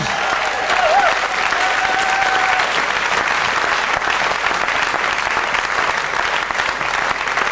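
A church congregation applauding and cheering during a Sunday afternoon service, a loud, dense, continuous wash of clapping that holds steady throughout, with a faint whistle or high cheer near the start.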